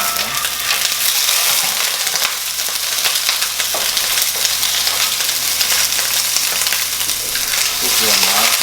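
Mussels and garlic frying in coconut oil in a pan, giving a loud, continuous, dense sizzle that holds steady throughout with no voices.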